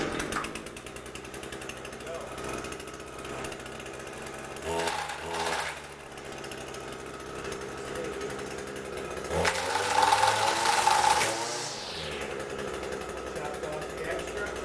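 Echo string trimmer small two-stroke engine running steadily with a buzzing drone, briefly revving louder in bursts, with a person talking over it.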